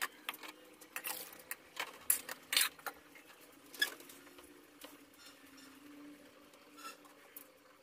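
A spoon stirs fish and cauliflower curry in a cooking pot, giving soft, irregular scraping and light metallic clinks at close range, quiet and without talk.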